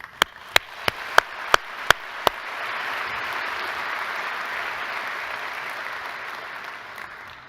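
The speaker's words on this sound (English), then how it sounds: "Please join me once again in applauding our new initiates." A few sharp, evenly spaced claps give way to a sustained wash of applause from a crowd at a medical conference convocation, steady and moderately loud.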